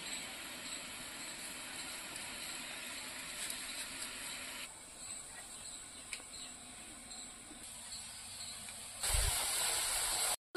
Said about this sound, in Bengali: সেদ্ধ হতে হতে তেঁতুলের জলটা পুরো লাল হয়ে যাচ্ছে